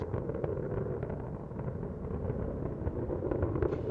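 Space Shuttle Atlantis main engines during launch, a faint, distant, broadband rumbling roar with steady crackle, continuous and unbroken.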